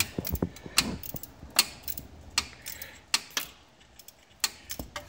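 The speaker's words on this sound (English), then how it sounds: "I'm tightening it, right? Righty tighty, lefty loosey. There we go, yep. Thank God for the ratchet wrenches." A ratchet wrench tightens a bolt on a 2005 Nissan Quest, giving irregular bursts of sharp, close metallic clicks with short pauses between strokes and no talking.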